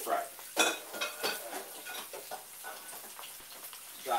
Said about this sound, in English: just put in the fish like this. I'm gonna allow that fire to fry.